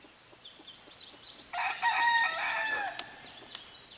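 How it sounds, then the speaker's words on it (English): Chickens cluck and a rooster crows in a farmyard setting, several overlapping calls rising mid-clip over faint background noise, fairly close and moderately loud. "You're upsetting the chickens."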